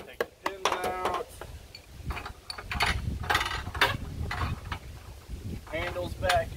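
Metal pins are pulled and handles stowed on an Equipter Stow-a-brake, giving scattered clanks and rattles of handled hardware against a windy, noisy outdoor background, with a voice now and then.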